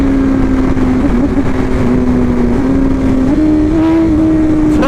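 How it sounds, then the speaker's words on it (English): A BMW S1000RR sport motorcycle is ridden at speed on a highway, its engine holding a loud, steady high-pitched drone with small rev shifts and a rising pitch near the end, mixed with wind rush. "It's so cool seeing that bike ripping, man."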